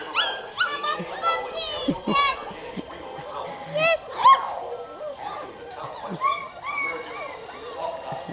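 A small puppy whimpers and yips in short, high bursts, with people talking and cheering around it throughout.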